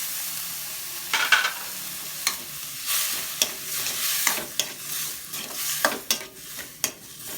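Tomatoes and garlic sauté in a pan, a continuous soft sizzle broken by repeated scraping and tapping of a stirring utensil at irregular intervals, fairly close with no talking.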